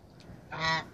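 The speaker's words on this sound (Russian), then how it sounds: "Вот видите, в Москве держат гусей." Geese kept in the city of Moscow, not far from the centre, break into a loud burst of honking cackles, a short close call alone with no talk.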